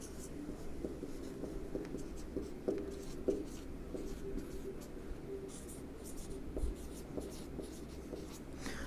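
A pen scratches steadily across paper while biology notes are written, close and continuous, with faint background hum throughout.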